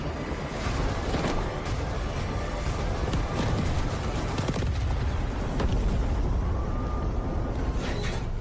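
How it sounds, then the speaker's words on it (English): Hydrogen explosion at a nuclear reactor in the game Delta Force, a loud, sustained rumbling blast with crackling debris and bursts like gunfire throughout, dense and continuous with no voice over it. "Hydrogen explosion at reactor 2."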